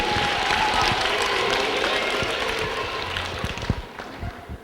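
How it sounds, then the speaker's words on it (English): Audience applause at a stand-up comedy show, a broad wash of clapping that is loud at first and gradually thins out into scattered claps. "Can we give him a round of applause?"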